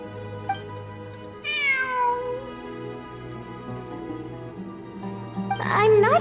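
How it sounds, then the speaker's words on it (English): A cat meows twice in a video game's ruin-exploration event quest, with one drawn-out meow early on and a shorter, higher one near the end, both over a steady background of soft music. "I'm not hearing things. It really is a cat."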